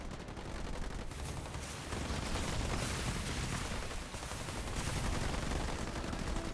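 Rapid, dense gunfire from Halo Wars 2 pops and crackles continuously in a real-time strategy battle, a thick stream of shots with explosions mixed in.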